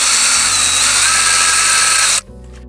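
A power drill drives electric fence hooks in while paddocks are built for sheep: a loud, steady high-pitched whir that runs unbroken for about two seconds, then stops abruptly, leaving quiet background.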